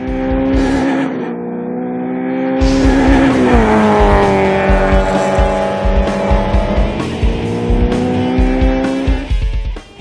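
Opel cars launch in a drag race at a national Opel club gathering, engines revving hard with rising harmonic roar and tire squeal, loud and close, continuous throughout with a brief drop before a second surge.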